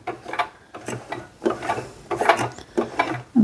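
A sewing machine turned slowly by hand over bulky fabric on a bag strap, giving a series of uneven mechanical clicks and soft thumps with short pauses between stitches, close and fairly quiet.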